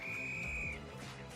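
A single steady, high whistle from a safety-themed Lego emote in Fortnite holds for under a second over low, layered game music.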